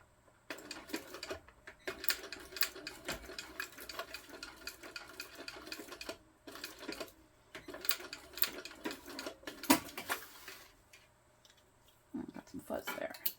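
A sewing machine stitches rows across a Rachel tote bag in bursts of rapid mechanical whirring and ticking, stopping and restarting several times with short pauses between runs, under occasional talk.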